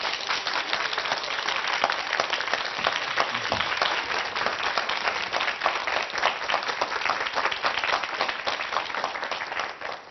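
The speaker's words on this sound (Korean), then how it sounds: "한수위 소장님을 큰 박수로 모시겠습니다." A lecture audience breaks into sustained applause to welcome a speaker onto the stage, with many hands clapping in an even, continuous wash that stays loud and steady throughout.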